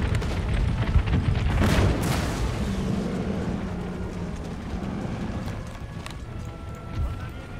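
Artillery fire booms in an Empire Total War battle, one heavy blast after a second over a dense rumble of battle noise.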